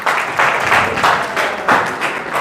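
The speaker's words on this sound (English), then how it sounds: "please kindly join me to welcome the IEC by a round of applause." An audience at an election board meeting giving a round of applause, loud clapping from a modest crowd in uneven pulsing waves, close and with no one speaking over it.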